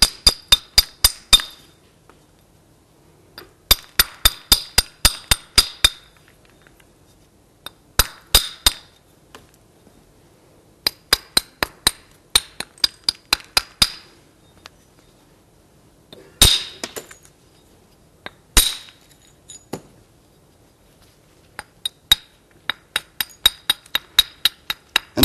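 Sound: flintknapping, striking stone with a hammerstone

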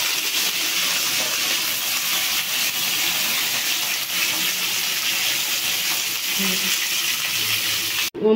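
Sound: hilsa fish head frying in oil in a wok

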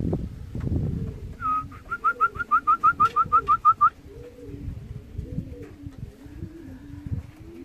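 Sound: racing pigeons flying in and cooing

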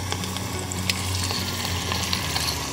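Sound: duck meat frying in a pot over high heat

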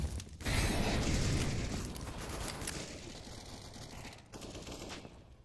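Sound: Galil rifle fire in a video game match

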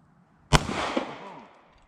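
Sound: gunshot

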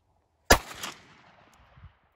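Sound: 9x19mm gunshot from CZ 75B pistol

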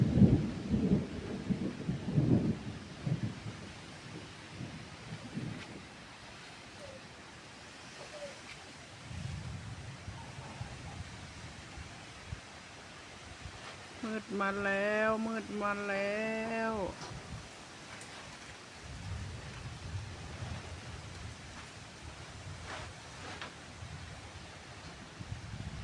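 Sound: thunder

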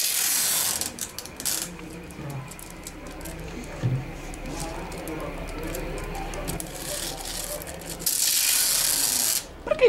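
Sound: adhesive tape being applied around a flag

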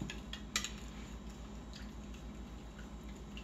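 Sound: stirring gel in a bowl

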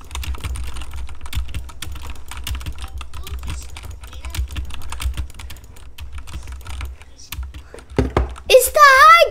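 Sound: computer keyboard typing

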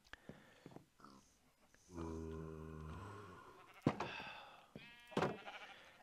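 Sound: sheep bleating in Minecraft video game

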